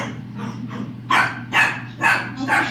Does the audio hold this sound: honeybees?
no